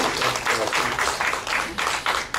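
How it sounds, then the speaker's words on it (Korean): A church congregation claps together during a Sunday morning service, a steady, dense round of applause filling the room for a few seconds, with a voice faintly mixed in. "박수 한번 치시겠습니다"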